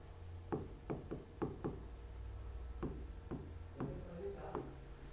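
A pen scratches across paper as a maths solution is written by hand, giving short irregular strokes and taps, faint and close, with no talk.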